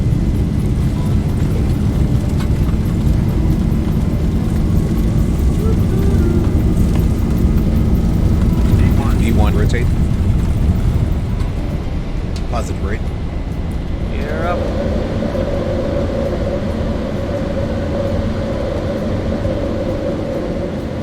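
Boeing 737-800 engines spool to takeoff thrust in the X-Plane 11 flight simulator, a loud, steady roar filling the whole stretch, with a voice speaking briefly over it.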